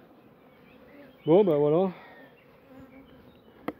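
Honey bees hum in a low, steady drone around a strong hive at an apiary, present throughout, while a voice briefly speaks over it.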